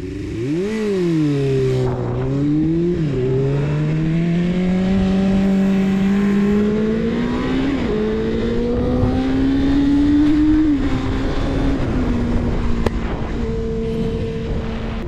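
A Suzuki GSF250V Bandit 250cc inline-four motorcycle engine revs up and down loudly, then settles into a steady high-pitched whine, close and continuous for the whole stretch.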